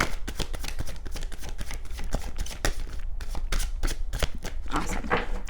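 Tarot cards are shuffled by hand in a quick, steady run of crisp riffling flicks and soft slaps, close and loud, without speech.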